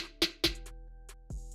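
Two sharp, gritty snare hits in quick succession, then a softer tail of hits and a sustained bright tone, all part of a looping beat.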